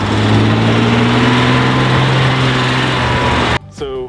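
A 1961 Jaguar XKE Roadster engine drones loudly at a steady pitch close by, then cuts off abruptly near the end, followed by a brief voice.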